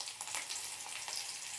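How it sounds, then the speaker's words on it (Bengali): Chopped snake gourd hits a pan with green chillies while cooking chichinga posto, a faint, even hiss of frying with soft crackles throughout and no voices. "আমি চিচিঙ্গাটা দিয়ে দিলাম।"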